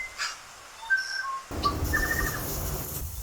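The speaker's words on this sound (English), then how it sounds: "Also bird." A bird calling in a garden: a few thin, high whistled chirps, fairly faint, over soft outdoor background noise that grows louder halfway through.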